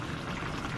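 Water poured from a pitcher into a cooking pot holding potatoes, a steady close splashing stream that lasts the whole short moment with no talk.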